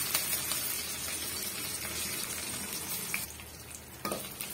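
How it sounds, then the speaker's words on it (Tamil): Dried red chilies fry in oil with curry leaves for a drumstick-leaf rasam, giving a steady, soft, close sizzle throughout, broken by a few faint clinks and stirring sounds near the end. "நல்லா வந்து இந்த வரமிளகாய் வந்து வறுபட்டு வரட்டும்."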